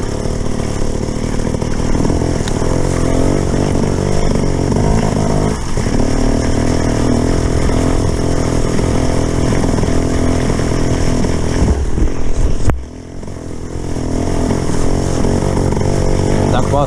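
An enduro motorcycle engine idles and sputters unevenly, a steady loud mid-pitched drone with a brief dip near the end, a voice talking faintly underneath at moments.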